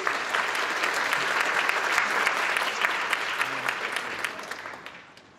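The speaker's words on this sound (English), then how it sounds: "Let's give her a round of applause." An audience at a talk on AI, crime prevention and privacy breaks into sustained, dense applause to welcome a speaker to the stage, the clapping tapering off near the end.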